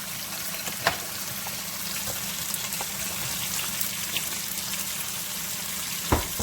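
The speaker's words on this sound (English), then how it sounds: "I'm just going to make a stir" Broccoli and cauliflower are stirred into Jamaican coconut rice as it cooks, giving a soft, steady simmering sizzle with a couple of sharp spoon knocks against the pot, and no one speaking.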